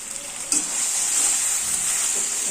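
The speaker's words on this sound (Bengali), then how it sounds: "মশলাটা দিয়ে ভালো করে ভাজা ভাজা করবো" Ground turmeric, chilli, cumin and coriander fry in a pan for a chalta pickle, making a loud, steady close-up sizzle with a brief stirring scrape near the start.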